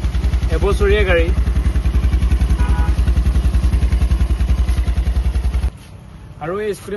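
Close-up idling of a new 2025 Honda Dio 125 Repsol edition scooter, a fast even low-pitched chug that stops abruptly near the end, with a person speaking at the start and again after the engine cuts.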